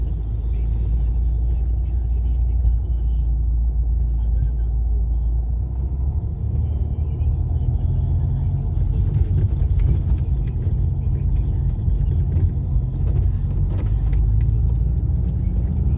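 A car driving along a driving test route, with a steady low engine and road rumble close inside the cabin, and a voice speaking now and then over it.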